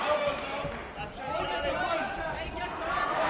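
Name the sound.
fight crowd reacting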